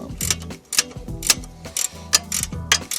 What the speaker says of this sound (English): this ratcheting wrench is working fabulous right now